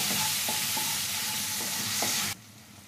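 Chopped onion and tomato sizzle in a hot pan for masala pulao while a spoon stirs and scrapes in a rhythmic series of strokes, until the sizzle cuts off abruptly near the end.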